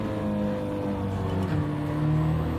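Racing car engine in a racing video game holds a steady, loud drone with harmonic bands across the whole stretch, swelling slightly near the end as the gear changes up.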